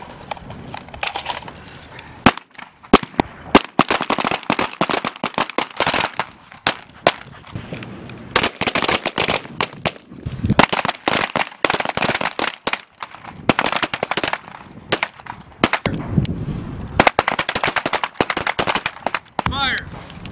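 U.S. Army training with the P320 M17 modular handgun: many sharp pistol shots crack in fast irregular volleys across a range, some overlapping, with shouted commands between them.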